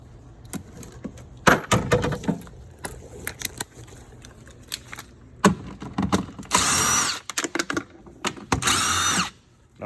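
A power drill backs out the two screws holding the rear seat back cushion on a 2004-or-later Club Car Precedent golf cart, with short bursts and two longer whirring runs near the end, mixed with clicks and handling noises.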